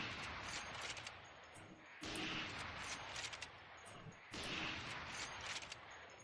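Operator sniper rifle fire in Valorant, three loud booming shots spaced about two seconds apart, each followed by a dense rumbling tail, with no talk.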